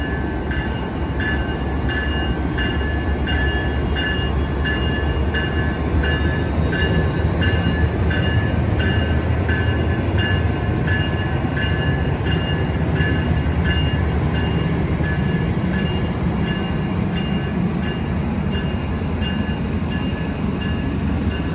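Amtrak Capital Corridor #727 passenger train rolls through Oakland Jack London Square Station with a steady, loud roar of wheels and cars for over twenty seconds. Rail clatter and high tonal squeals run throughout, with no talk.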